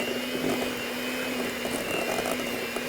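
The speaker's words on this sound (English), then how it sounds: "you can use a stand mixer if you'd like, or whatever you have handy" A stand mixer works bread dough for bull's-eye grapes in a home kitchen, giving a steady, loud motor whine with a constant hum that runs without a break and no voices over it.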